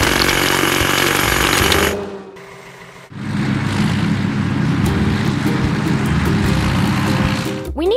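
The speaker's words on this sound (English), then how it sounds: "Hydraulic hammer." A hydraulic hammer breaks big rocks in a children's truck-building video game, a loud steady mechanical pounding that stops for about a second and then resumes with a heavy rumbling drone.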